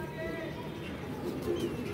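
Pigeons, a pair kept by a fancier, coo softly and continuously, with low murmuring calls mixed with other bird chirps and someone talking over them in a close, busy loft setting.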